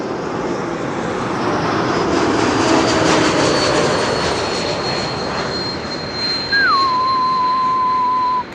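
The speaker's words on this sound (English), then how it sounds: "KLM flight 1030 arriving from Person-Chester, an E2 Embraer 195" A KLM Embraer E195-E2 jet arrives at Schiphol with a loud, sustained engine roar and a whining tone that slides slightly, then a higher steady whistle near the end.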